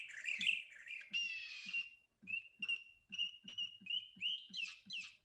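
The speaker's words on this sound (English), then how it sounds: "Where you have audio snippets of different kinds of birds." Recorded bird calls play in quick succession: short chirps, trills and whistles of different species, each clip distinct and fairly faint with gaps between, alone without talk.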